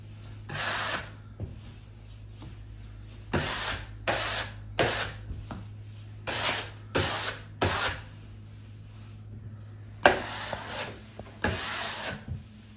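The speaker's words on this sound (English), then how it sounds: "I'm moving the wallpaper over closer to the seam. And I'm holding this down so it doesn't move." Wallpaper being smoothed and slid along a wall toward a seam, heard as soft close brushing rubs in short bursts of about a second, separated by quiet pauses over a faint steady hum.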